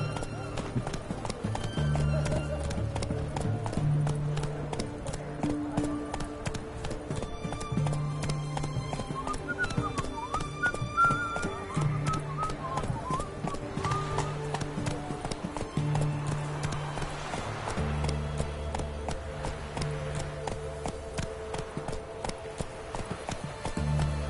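Roach, the horse in The Witcher 3, clip-clops steadily on hooves throughout, mixed under constant game music and ambience with a brief whinny-like cue.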